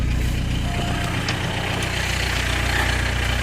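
A 1991 Volkswagen Jetta 1.6 diesel engine cranks with its starter slipping, a continuous loud mechanical churning and whir with a slight uneven texture throughout.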